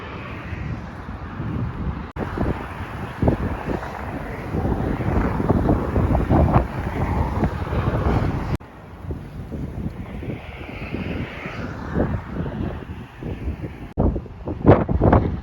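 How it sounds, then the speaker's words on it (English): Strong coastal wind on the Italian seaside buffets the microphone in heavy, gusting rumbles, with brief drops between blasts and a steady roar of sea air close by. "I'm trying to hide behind this bush because it's super windy right now"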